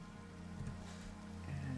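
Steady rain in the Minecraft video game, a continuous soft patter with a low droning tone underneath, even and unbroken throughout, with no voices.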